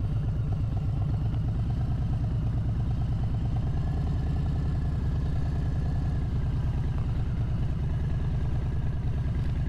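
A Harley-Davidson motorcycle engine runs at slow speed with a steady, throbbing low-pitched rumble and a rapid rhythmic beat, close by and without talk.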